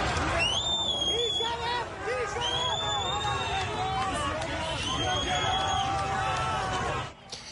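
A large crowd of anti-government protesters on the streets of Iran's capital, a dense, continuous hubbub of many voices with shouts and cries rising over the babble throughout.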